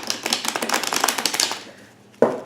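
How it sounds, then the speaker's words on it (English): Tarot cards being shuffled by hand, a rapid run of crisp riffling flicks for about a second and a half, then a pause and a single sharper snap of the deck, close and alone. "I'm gonna go ahead and start shuffling your cards here."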